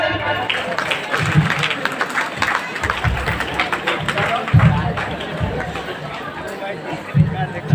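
An audience at a DXN business meeting in Danapur claps steadily for several seconds, the applause mixed with chatter and crowd noise in the room.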